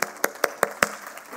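A church congregation claps in praise, five sharp, evenly spaced claps in a quick steady rhythm followed by a fading tail.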